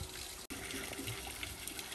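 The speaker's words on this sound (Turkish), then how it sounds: "Köyün içinde ufak bir şelale çıktı karşımıza." A small waterfall in a village stream rushes with a steady, broadband gushing roar close by, constant throughout apart from a split-second dropout near the start.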